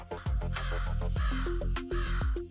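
Crows caw loudly and close by, three harsh calls in a row, each with a hoarse, falling tone.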